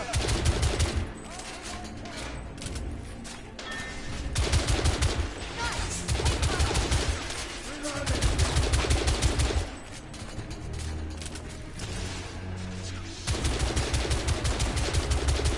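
Gunfire in the shooter game The Order: 1886, dense continuous volleys and rapid shots layered over loud game ambience and rumbling, with no pauses through the stretch.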